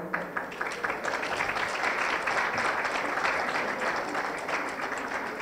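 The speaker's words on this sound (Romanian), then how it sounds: "aș vrea să-i aplaudăm" Audience applause at an awards gala, a steady, moderately loud wash of many hands clapping that holds evenly throughout, with no talk over it.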